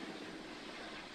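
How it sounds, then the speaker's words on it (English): Helicopters flying over the White House give a faint, steady distant rotor and engine drone with an airy wash and no clear changes. "They got helicopters and everything."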